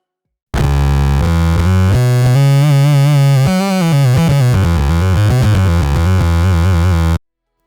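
CorOS mono synth signal split between a fuzz and an amplifier, giving a loud, dense, gritty melodic line of changing notes with sliding pitch, playing steadily for several seconds with no voices.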